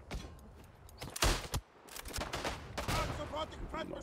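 Gunfire in the World War I shooter Isonzo, with bursts of rifle and machine-gun shots cracking amid battlefield noise, with some sharp reports standing out loudly over the ongoing din.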